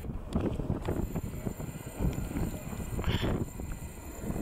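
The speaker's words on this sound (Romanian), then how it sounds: "că bate vântul ăsta și mă destabilizează" Gusty wind buffeting the microphone at a paragliding field, a rough, uneven rumble that swells and dips with a few sharper bumps, fairly close and unbroken, with no talk.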